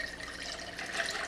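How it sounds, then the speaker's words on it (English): Bullet bourbon pours over ice for a cocktail in a short, steady liquid stream with a soft splashing hiss. "Then we're going to add 2 ounces of our bullet bourbon."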